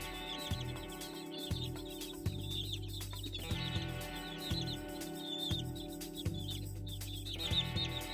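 Chickens squabble over egg yolk with steady clucking and sharp chirps, a busy flock close up, under a repeating rhythmic musical backing.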